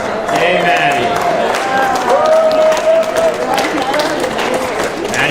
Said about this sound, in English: let's all give her a round of applause and tell her happy birthday